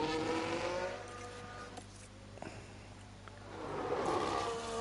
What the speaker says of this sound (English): That engine sounds very rough.